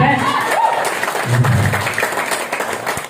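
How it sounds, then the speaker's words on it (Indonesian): Audience applause for BTS at a talk event, a dense wash of clapping and crowd noise lasting a few seconds, fairly loud and close, with a brief murmur of voices underneath. "Tepuk tangan untuk BTS."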